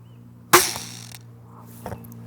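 An Excalibur Hybrid X compound/recurve crossbow fires with one sharp, loud snap and twang, then a short fading ring and a faint thump a moment later over low steady hum.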